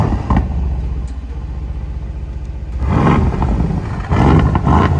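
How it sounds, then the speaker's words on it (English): A Mercedes-AMG GLC63 S engine rumbles at idle, then the AMG performance exhaust swells into a deep, loud roar as it revs twice, close by. "Just listen to the AMG performance exhaust."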